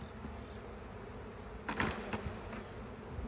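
Honeybees on a brood frame buzz in a steady, close hum, with a few brief louder bursts of wing noise midway and no voices.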